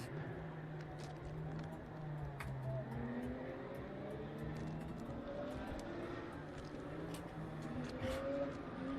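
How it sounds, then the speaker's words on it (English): Several Porsche race cars idling and weaving through a formation lap at the Portimão circuit during a Sprint Challenge race, with a steady, continuous engine drone and layered harmonic tones that rise and fall at a moderate distance and no talk. "So we're on that formation lap, heading up towards turn 10 and 11."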